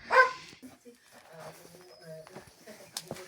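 A dog gives one sharp, close bark at a cat arriving, followed by quieter whimpering yips and rustling, with a person speaking softly in between.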